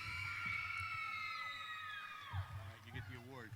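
A commencement ceremony crowd cheering and whooping, shrill high-pitched voices sweeping down across the first half and fading, with further shouts near the end, fairly distant and moderately loud.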